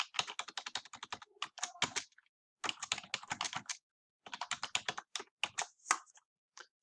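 Typing on a computer keyboard, close and clear: quick runs of key clicks in bursts separated by short pauses, with no talking.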